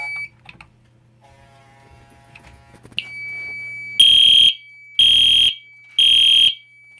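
A fire alarm system in walk test blares a code 3 pattern: three loud pulses of equal length, each about half a second, separated by brief silences, after a faint beep and quiet shuffling.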